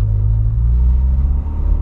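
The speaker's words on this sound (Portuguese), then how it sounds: "Olha o barulhão do Polo chamando" A Volkswagen Polo engine roars in a steady, loud, deep rumble that holds close and constant throughout the short stretch, with no voices over it.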